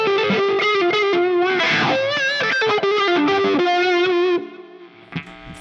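Electric guitar through a Fractal FM3 on a Marshall 1959SLP Treble Plexi preset plays a regular lead tone, distorted with chorus-like shimmer, a fast run of bent, sustained notes that stops abruptly into near silence.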